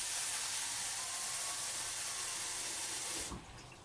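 Steady, loud hiss of water pouring from a kitchen tap into a pasta pan, running continuously and then cut off abruptly near the end.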